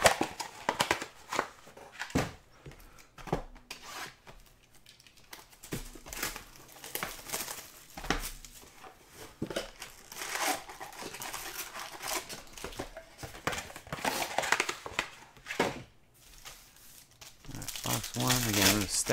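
Foil wrappers of 2019-20 Contenders basketball hobby card packs tear and crinkle in repeated bursts, close and fairly loud, with quieter gaps between rips and a voice talking intermittently.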